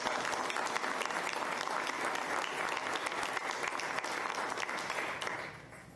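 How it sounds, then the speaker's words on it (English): Steady applause from an audience honouring graduating high school students at a school board of trustees meeting, sustained at an even level before tapering off at the end. "so let's give them a round of applause"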